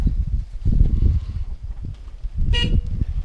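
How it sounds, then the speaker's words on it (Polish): A short horn toot from an Ursus C-360 tractor sounds once near the end over the low chugging rumble of its idling engine close by. "Klakson działa, czyli jest dobrze."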